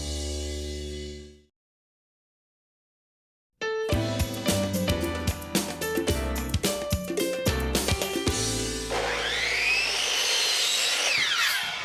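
A saw bites through western red cedar window trim under a porch, starting after a brief silence with choppy, grinding cutting bursts that build into a steadier rasp near the end.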